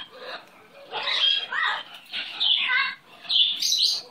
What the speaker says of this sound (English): Where's my pretty bird? Where's my beautiful baby bird?